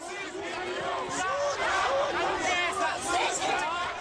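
An angry crowd at a Truth Commission hearing into Siphiwo Mtimkulu's killing shouts and clamours together in a dense, continuous wall of raised voices, close and loud.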